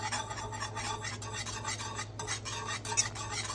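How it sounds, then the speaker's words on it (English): Semolina flour whisked into hot milk in a pot, a steady scraping and stirring swirl with faint clinks of the whisk against the pan, moderately close and continuous, no voices. "Now you want to add this in slowly, and you want to whisk it in to prevent clumps."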